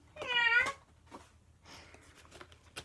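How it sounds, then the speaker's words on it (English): A cat meows once, fairly close and clear, followed by faint rustling and small handling sounds. "A cat."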